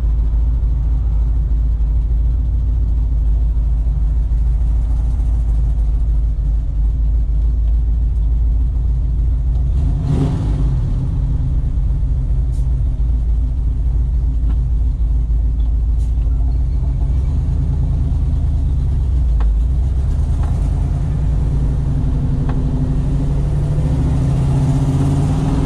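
A car drives along a road with a loud, steady low engine and tire rumble heard from inside the cabin, with a brief thump near the middle and no talking.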